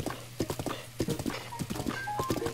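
Horse hooves clip-clop in a steady trotting rhythm as a rider crosses open prairie in The Legend of Zelda: Breath of the Wild, close and clear with no talking.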